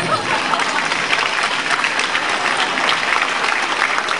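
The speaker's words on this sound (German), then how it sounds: "das ist ein Applaus" Sustained audience applause at a comic convention Q&A panel, dense and steady clapping from a large crowd filling the whole stretch without pause.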